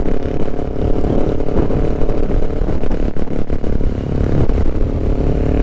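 A 2006 Kawasaki Ninja 500R engine runs with its choke still on, a loud, close, rough steady drone with slight rhythmic fluctuation and light clatter, fresh after assembly in a garage.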